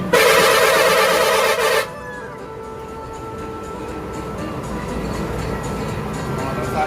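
Truck air horn blasting continuously on a highway while overtaking, aimed at a motorcyclist ahead; one loud sustained honk for about two seconds, then cuts off leaving engine and road rumble.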